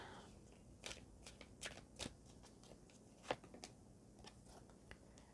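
Tarot cards being shuffled by hand, giving a series of crisp papery riffles and soft slaps at an irregular rhythm, close and fairly quiet against a faint room hiss.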